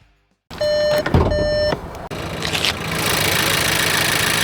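Turbocharged 1.5-liter four-cylinder in a 2026 VW Jetta SE, starting with tonal beeps and then settling into a steady, close engine hum with broadband whir and no voices.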